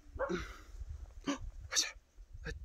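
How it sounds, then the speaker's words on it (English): A few sharp dog barks and huffs, close by, spaced irregularly over a couple of seconds with brief quiet gaps. "Barking dogs."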